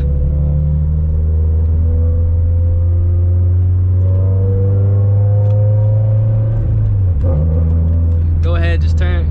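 A turbocharged Subaru FRS with an ACT clutch and lightweight flywheel accelerates from inside the cabin. The loud engine drone climbs in pitch, drops briefly at a gear shift near the end, then revs up again.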